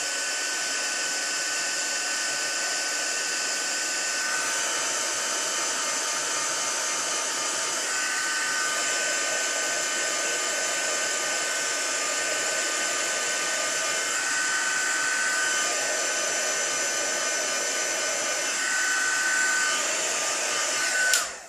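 A heat embossing tool blows hot air over white embossing powder on a stamped card, a loud, steady whooshing roar close by that runs unbroken for about twenty seconds and then cuts off, with no talking.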